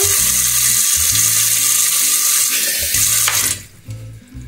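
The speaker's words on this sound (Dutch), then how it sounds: "dan doe ik er" Water pours steadily from a tap into a measuring jug with a rushing, hissing stream, then cuts off, leaving a few faint drips and clinks.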